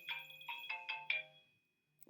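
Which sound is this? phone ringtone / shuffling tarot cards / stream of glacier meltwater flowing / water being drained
phone ringtone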